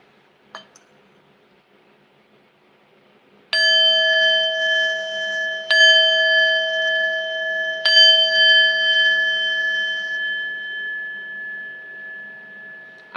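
Three ringing bell chimes struck one after another at the close of a podcast, each a clear sustained metallic tone overlapping the last and slowly fading, after a brief faint click.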